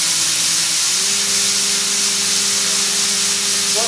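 Makino a51 machining center from 2005 with an 8-pallet changer, its spindle whirring at speed and rising in pitch with a steady tonal whine over constant hiss, loud and continuous with no talk.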